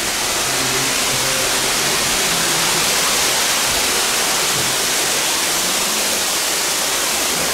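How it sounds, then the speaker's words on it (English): A waterfall inside an amusement park ride, a loud, steady broadband rush of falling water that continues unbroken and fills the whole stretch. "At least with the sound of the waterfall over there"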